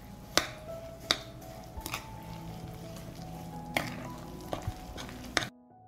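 A breadcrumb and egg mixture is stirred in a pan with a quiet, steady scraping hiss and several sharp clicks of the utensil against the pan, ending abruptly.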